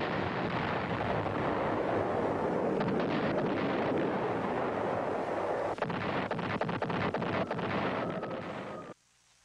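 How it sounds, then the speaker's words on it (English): B-52 close-in bombing at Khe Sanh during the Vietnam War: a continuous, loud, rumbling roar of heavy explosions with dense overlapping blasts and crackle, sustained throughout before cutting off abruptly near the end. "From now on, close-in bombing by B-52s would play a major part in the defense."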